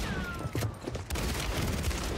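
A burst rifle in Warzone firing one shot at a time, several close, punchy reports in quick succession over a dense low rumble, with no voices.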